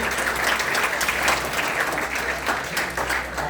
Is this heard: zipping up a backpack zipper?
no